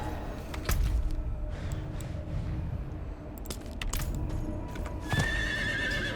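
A horse in Diablo 4 whinnies loudly, with clip-clopping hooves and small metallic jingles around it.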